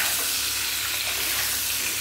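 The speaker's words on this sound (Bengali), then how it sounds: "এখানে মাছ ভাজার তেলের উপরে আলুটা তুলে দিলাম" Potatoes frying in leftover fish-frying oil in a home kitchen, giving a steady, close, bright sizzling hiss with no pauses or talk.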